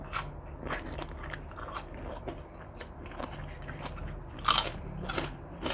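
Crisp crunchy chewing of spicy cuttlefish papaya salad, with repeated close bites and crackly crunches at an irregular eating rhythm and one sharper louder crunch near the end, with no talk.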